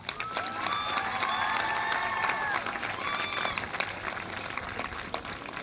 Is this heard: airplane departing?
no